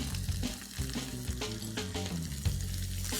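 About two and a half chopped onions with a pinch of salt frying in a pan with chillies, curry leaves and garlic for mutton pepper fry: a dense, loud, close sizzle with stirring clatter throughout.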